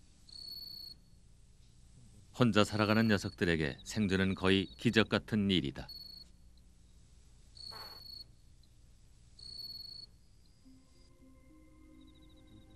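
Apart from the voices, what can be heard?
cicadas chirping at night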